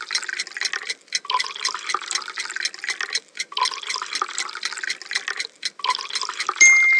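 Milk pours in a cartoon restaurant cooking game, a continuous bright trickling and splashing liquid effect running for several seconds with brief breaks, loud and close, without speech.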